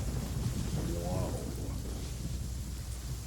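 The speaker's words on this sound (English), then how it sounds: "That was a different thunder sound effect." Thunder rumbles in the Genshin Impact video game, a low, continuous roll under steady heavy rain hiss. It stays loud and fairly even throughout, with a brief vocal murmur in the middle.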